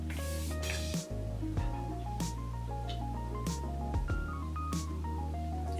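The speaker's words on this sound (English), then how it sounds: "People seem to like that when you like show them how well it sprays." A facial makeup mist is sprayed in several short, sharp hissing spritzes, spaced about a second apart, over background music.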